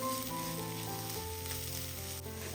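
Chili powder sizzles and fries steadily in a hot pan while being stirred, a close, continuous crackling hiss with no voices.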